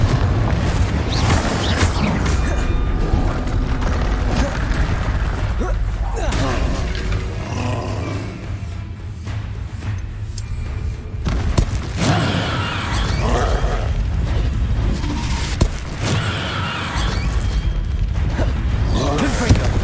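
Repeated Confringo fire spell blasts in Hogwarts Legacy, booming low rumbles and roaring bursts that come one after another over a dense, continuous game soundscape, with voices mixed in throughout.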